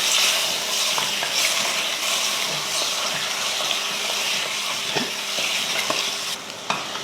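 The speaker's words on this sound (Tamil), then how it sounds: "கூடவே ஒரு தக்காளி, கொஞ்சம் மஞ்சள் தூள், தேவையான உப்பு சேர்த்து இதை நல்லா கலந்து விட்டுறலாம்." Mutton frying in a pan with tomato, turmeric powder and salt gives a loud, steady sizzle, with repeated scraping stirs and clinks of the spoon throughout, close up and without voices.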